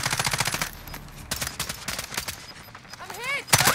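Rapid automatic gunfire in a video game rattles in fast, close bursts, then thins into scattered shots before a voice speaks at the end.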